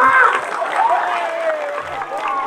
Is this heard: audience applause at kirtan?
yes